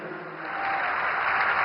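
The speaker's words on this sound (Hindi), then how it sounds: "आपकी तालियों का जय घोष रुकना नहीं चाहिए देवी और सज्जनों" An audience applauds at a public event, a broad, steady wash of clapping that grows slightly louder as it goes on.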